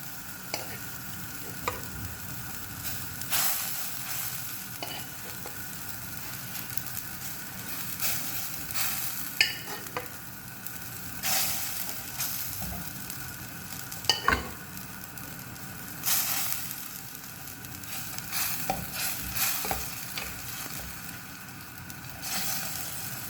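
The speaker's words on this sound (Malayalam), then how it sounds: "അതിലേക്ക് ആദ്യമായിട്ട് നമുക്ക് ഈ നുറുക്കി വെച്ചിരിക്കുന്ന മീൻ ചേർത്ത് കൊടുക്കാം." Chopped dried fish simmering in thick mango curry paste, a low ongoing bubbling sizzle broken by occasional sharp clinks and scrapes of stirring.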